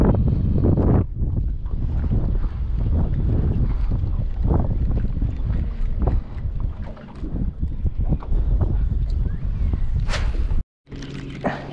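Steady wind rushes over open water as a fishing boat drifts across a bank, with continuous buffeting gusts on the microphone, a few soft knocks and splashes, and a brief dropout near the end.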